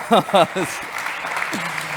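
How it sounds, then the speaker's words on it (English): Audience applause after a pitch at a startup competition on energy transition, a steady patter of clapping that follows a few spoken words at the start. "Big applause"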